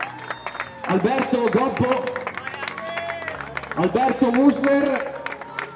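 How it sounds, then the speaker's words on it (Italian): Scattered applause at a youth tournament team award ceremony, with hands clapping in short bursts while a presenter reads names over a microphone. "un applauso"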